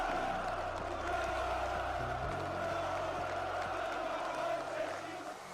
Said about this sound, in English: his quote-unquote supporters are booing him